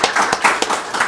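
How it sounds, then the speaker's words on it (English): Audience applause after a startup pitch at a Little Rock community business meetup, a short burst of steady clapping from a small room of people, fairly close and even. "So give them a round of applause."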